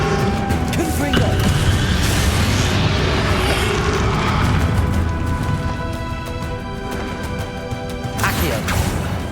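A Confringo fire spell explodes in the fantasy game Hogwarts Legacy, with booming, crashing blasts over a sustained, dense wash of game sound and music, and a voice heard in the mix.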